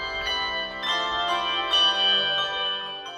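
Handbell choir ringing handbells, bright sustained metallic tones with several overlapping strikes in a steady rhythm, close and clear with no talking.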